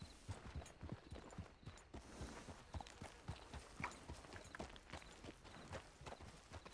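Horse hooves clip-clopping at a steady walking pace in the RedM western roleplay game, a continuous run of even, moderately close footfalls, with faint voices now and then.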